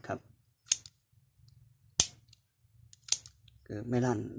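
A small gas blowback airsoft pistol is dry-fired, giving three sharp, separate mechanical clicks spaced about a second apart, close up in a quiet room, before a voice begins talking.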